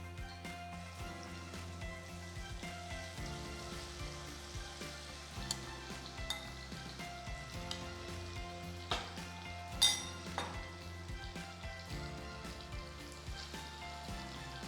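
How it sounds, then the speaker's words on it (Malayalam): Whole prawns frying in a pan of oil for prawn pickle, a steady low sizzle with occasional metallic clinks of a utensil against the pan. "ഇതേപോലെ ഫുൾ പ്രോൺസ് നമുക്ക് ഫ്രൈ ചെയ്തെടുക്കാം"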